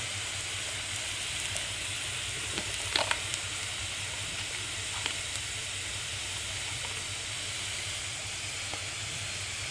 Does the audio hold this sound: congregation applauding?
no